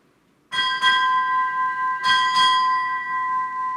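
A ship's bell struck four times at a Navy retirement ceremony, rung as two quick pairs about one and a half seconds apart, each bright metallic double stroke leaving a sustained ringing tone.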